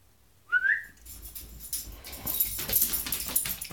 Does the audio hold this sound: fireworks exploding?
no